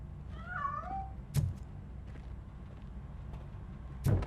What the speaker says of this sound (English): That cat must be hiding inside. Let me lure it out.